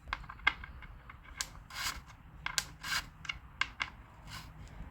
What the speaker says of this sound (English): I'll just put the wrench on that slug and give that a little twist